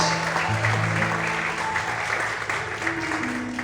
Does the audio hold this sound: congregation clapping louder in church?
yes